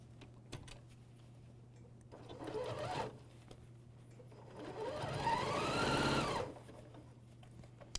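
An AirThread 2000D Professional serger stitching fabric for a bathrobe: two bursts of rapid mechanical whirring, a short one and then a longer, louder run, over a steady low hum with faint clicks between.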